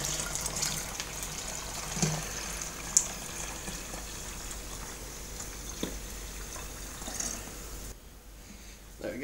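Warm water runs from a tap into a beer line cleaner bottle, filling it to 3 litres; a steady, moderately close rush of flowing liquid continues for several seconds before stopping near the end.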